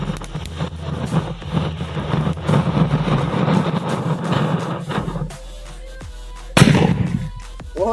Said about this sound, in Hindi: देखते हैं किस प्रकार धमाका होता है।